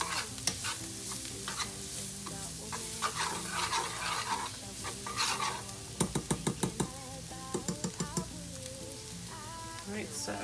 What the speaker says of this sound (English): So we're just going to put in a portion, stir, let it thicken just a little bit.